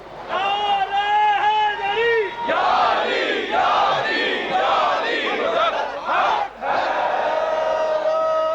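A large crowd at a religious gathering celebrating Imam Ali's birthday chants the Nara-e-Haidri slogan together, loud and close, with a leader's voice calling out and massed voices answering in surging waves.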